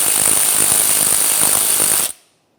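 Impact or power tool driving a T50 Torx socket on the brake caliper mounting bolts of a 1994-2002 Dodge Ram 2500, a loud, continuous close buzzing whir that cuts off abruptly after about two seconds.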